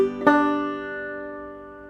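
A banjo plays a short measure from a tab: an open-string note rings, then a sharper plucked chord of strings sounds and sustains, slowly fading over two seconds, close and alone.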